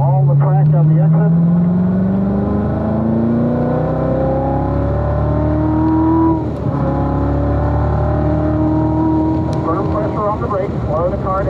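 A Chevrolet Corvette Z06 on the Spring Mountain race track accelerates hard, engine note climbing steadily through the gear with a brief dip at a shift, heard from inside the car under a driver's running commentary.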